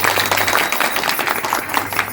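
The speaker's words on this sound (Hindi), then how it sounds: "ये दो जोरदार तालियों से आप" Crowd of women clapping at a women's conference during an election campaign, a short, steady burst of loud applause filling the room.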